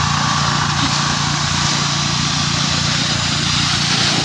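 A grass cutter engine drones steadily and loudly, close by, while spraying and clearing grass in a calamansi orchard, a continuous high-pitched motor whine with no breaks.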